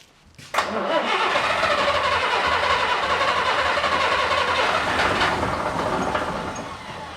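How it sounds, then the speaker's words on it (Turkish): An Ikarus 260 bus engine starts from long disuse, a brief crank catching into a loud, steady, rumbling diesel run that holds for several seconds, close by and without talk. "İlk marşı basacağız artık yani Bilal Usta"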